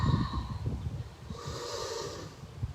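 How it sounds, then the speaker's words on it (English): Slow, steady breaths during a yoga flow, a soft nasal inhale and a longer airy exhale, close and quiet with no talking. "Inhale and exhale."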